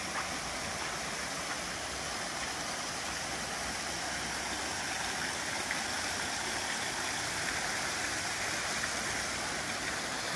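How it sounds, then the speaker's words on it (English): Garden fountain on a Catalan summer estate pours and splashes steadily, a dense, loud, unbroken rush of falling water close by with no pauses. "I may have to shout because of the water"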